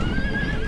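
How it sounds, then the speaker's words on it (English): Horse neighing on a battlefield in a Rome: Total War mod, a loud close whinny held for under a second over rumbling hoofbeats and battle noise. "Ah, horse archers."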